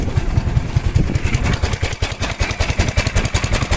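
A Predator 420cc go-kart engine runs with the clutch off and a torque converter and reverse gear fitted, chugging close and loud in a rapid uneven pulse with rattly clatter.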